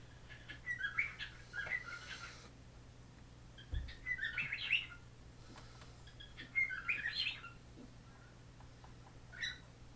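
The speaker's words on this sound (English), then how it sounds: "Sorry about my bird. He's kind of loud and obnoxious." A pet bird chirping indoors in several short, bright bursts of tweets spaced a few seconds apart, fairly faint over a low steady hum.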